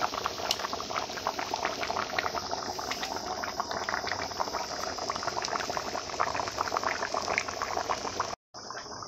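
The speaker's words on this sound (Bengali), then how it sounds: "কীভাবে টকবক করে ফুটছে তরকারি" Chicken curry boiling hard in a pot after water is added, a loud, close, continuous bubbling and gurgling that carries on without pause before a brief cut near the end, with no talk.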